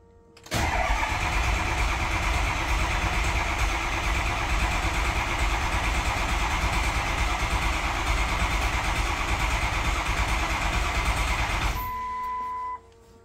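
A 2004 Ford 6.0 Powerstroke diesel cranks briefly, then fires and settles into a loud, steady idle close by that runs unbroken before shutting off at the end.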